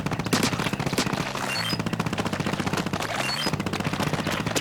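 Mini Splatling from the video game Splatoon firing a rapid, continuous stream of shots in a fast rattling rhythm, broken by two brief charging pauses and carried along over game music.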